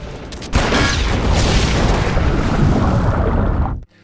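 Plastic explosives stuck to a wall detonate in a Batman film scene, a sudden loud blast followed by a sustained roaring rumble that dies away abruptly.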